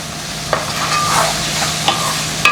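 Onions sauté in a pan for a squid gravy, with a steady soft sizzle and a few sharp clinks and scrapes from stirring. The sound is close and clear, and no one speaks.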